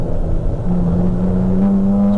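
An Audi GT race car threads through traffic at the Bathurst 12 Hour, a loud engine note that climbs steadily in pitch as it accelerates, backed by steady track roar.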